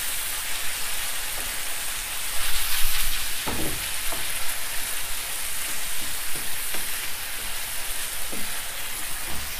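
Minced beef frying in a pan with chilli oil, a steady close sizzle with a few scraping stirs and knocks breaking through.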